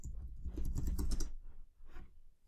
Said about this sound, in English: You have to type in your administrative password.